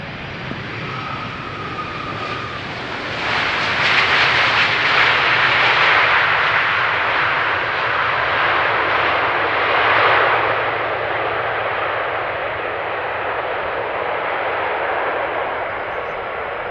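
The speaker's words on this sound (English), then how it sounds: "That wasn't a whole lot of reverse thrust that was applied" A jet airliner lands on runway 18R at Amsterdam Schiphol Airport, its broad engine roar swelling into a loud rush of light reverse thrust and then fading to a steady rumble as it rolls out.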